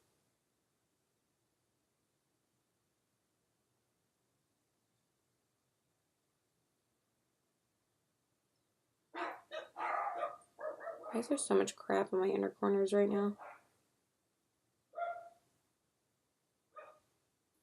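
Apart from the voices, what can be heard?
dogs barking in the morning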